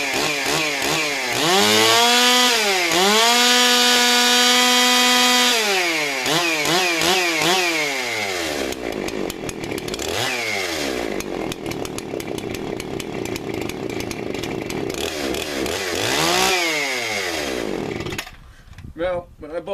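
A vintage Husqvarna 288xp Lite chainsaw, started after fifteen years stored in a shed, fires up and runs loud and close, its engine revving up and down in sweeping rises and falls before dropping off near the end.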